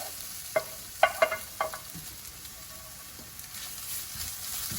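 Quiet stirring of crushed coconut, green chilies, cumin seed, garlic and turmeric powder in a pan for a vegan carrot stir fry, a few sharp spoon scrapes early on over a faint low sizzle.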